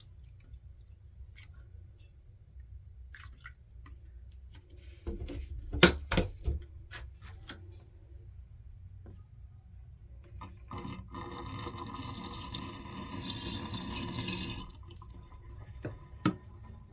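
Kleen Tank cleaning solution poured into a camper holding tank gurgles and drains away, with scattered drips and clicks, a brief louder splash near the middle and a longer rushing wash toward the end, fairly close and quiet.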